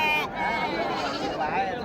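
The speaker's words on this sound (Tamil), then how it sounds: "செம்மறி குட்டிங்க" Sheep lambs bleat at a livestock market, with several wavering, nasal calls near and loud, overlapping the background chatter and bustle of the crowd.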